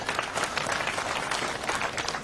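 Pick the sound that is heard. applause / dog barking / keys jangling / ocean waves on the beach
applause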